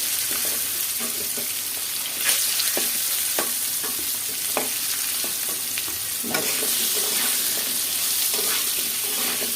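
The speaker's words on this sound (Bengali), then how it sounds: "আলুগুলাও ভাজা হয়ে গেছে একদম সুন্দর করে লাল লাল করে ভেজে নিলাম" Potatoes fry in oil in a pan until browned, a close steady sizzle with intermittent stirring scrapes and clicks throughout.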